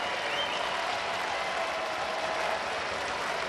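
A dense, steady roar of a baseball crowd on its feet at Progressive Field in Cleveland, broad and distant-sounding, sustained throughout without a break.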